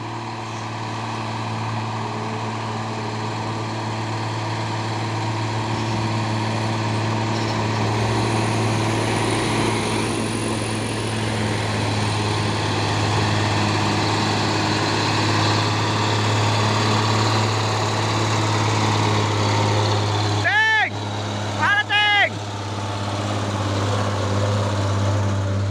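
A smoking 6x2 truck engine straining uphill on Bukit Kodok gives a loud, sustained low drone that swells gradually, then two short, high wavering tones break in near the end.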